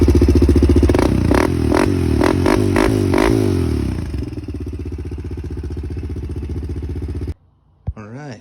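A Honda 400EX ATV engine runs after a top end rebuild, loud and close, with rhythmic revs at first, then a steady idle before it cuts out.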